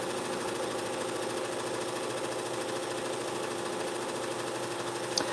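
A sewing machine stitching boxy bags runs in a steady, even, fast mechanical whir for several seconds, close and continuous, ending with a faint click.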